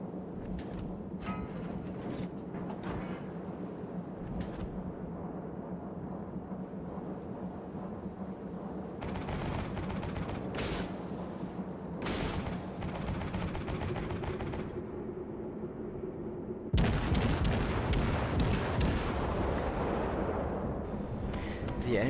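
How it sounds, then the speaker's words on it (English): Naval gunfire in a World of Warships battle between a Tier IV Japanese cruiser, the Kuma, and a battleship: a steady rumbling bed of distant cannon booms and mechanical noise, with a louder, harsher burst of firing near the end. "I continue to exchange fire with the battleship."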